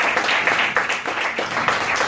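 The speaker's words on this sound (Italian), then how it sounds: "un altro applauso ad Antonella" Brief, steady clapping from a small group for a participant, a dense patter of hands lasting about two seconds with no voices.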